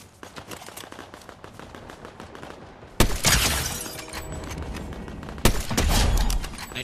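Gunfire in the Metal Gear Solid video game, where Solid Snake fights with only a pistol and a sniper rifle: faint rapid pops and clicks, then two loud, sharp blasts with long ringing tails.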